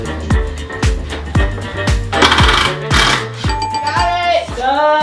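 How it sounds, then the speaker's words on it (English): A power drill bores into a bedroom wall while someone hunts for a stud during a DIY renovation. It sounds loud and close, in rapid pulsing bursts that come in a rough, repeating rhythm. "Drill bit again."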